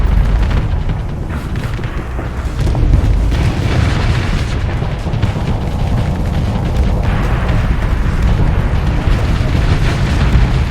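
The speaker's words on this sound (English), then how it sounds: "They see my fortress shield up, and they still torpedo me?" Torpedo explosions slamming against ship shields in the space combat game Starsector, a loud continuous rumble of overlapping booms and bursts with no clear gaps.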